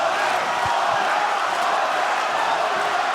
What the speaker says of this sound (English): The crowd's coming alive.